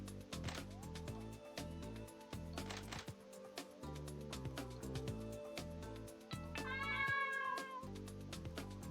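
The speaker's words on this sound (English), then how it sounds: "A cat." A cat meows in the RPG Heroes of Shaola, a short clear call near the end over looping game background music with plucked tones.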